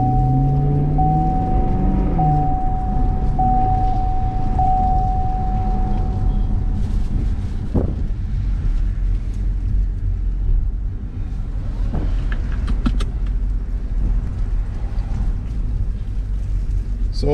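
A Chevrolet Camaro SS with about 25k miles drives along, a steady low engine rumble with road and wind noise throughout, and a voice speaking briefly at the start.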